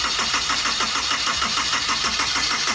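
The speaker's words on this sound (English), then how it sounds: "Let's give it another shot and hopefully get this thing firing." A Honda S2000 engine cranks over on its starter after a camshaft and valve cover change, giving a loud, close, rapid rhythmic churning that never catches.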